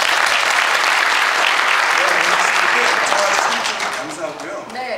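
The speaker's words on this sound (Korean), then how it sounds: "박수 부탁드립니다" Loud, close audience applause breaks out at a live product demonstration, dense and sustained before thinning out toward the end as a voice starts to come through.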